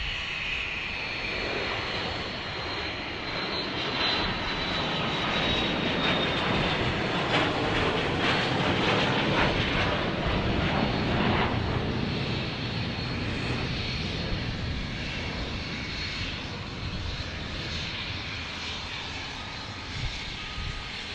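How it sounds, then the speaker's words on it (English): A Cessna Latitude 700 corporate jet departs from Dallas Love Field with a loud, sustained engine roar and a high whine, swelling as it passes and then slowly fading over about twenty seconds, heard outdoors with no talk. "Another corporate jet departure here. This is another Cessna Latitude 700."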